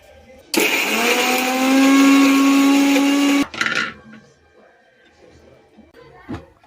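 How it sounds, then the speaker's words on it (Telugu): A mixer grinder whirring loud and close for about three seconds as it blends coriander, garlic, green chillies, coriander seeds, cumin, cinnamon and cloves in a jar, then a brief second pulse and faint clatter afterward. "ఒక గుప్పెడు కొత్తిమీర వేసుకొని మిక్సీ పట్టుకోవాలి."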